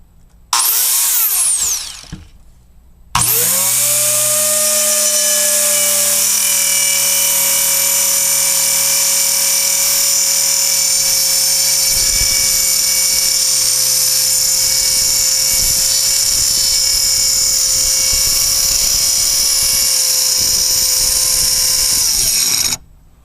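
A Dremel Saw-Max rotary saw gives a brief high whine, falls silent, then spins up and cuts in one long, loud, steady shriek for about twenty seconds before winding down.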